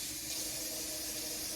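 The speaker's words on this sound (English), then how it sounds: "let me put a little water in this because I'm going to steam some broccoli" Water pours from a tap into a kitchen pot meant for steaming broccoli, a steady close hissing splash that holds constant through the short moment.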